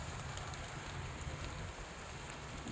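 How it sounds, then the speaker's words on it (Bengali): Rain falls steadily on a rooftop garden planted with hibiscus, oleander, allamanda and mussaenda, making a soft, even patter and hiss that carries on unbroken throughout, faint and with no voices. "বৃষ্টিটা মনে হয় বেড়ে গেল আবার।"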